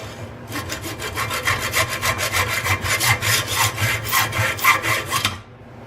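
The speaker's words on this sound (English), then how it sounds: "Now we're going to take some of this aluminum welding rod and the hacksaw," Hacksaw cutting through aluminum welding rod, a steady run of rapid back-and-forth rasping strokes, close and fairly loud, stopping just before the end.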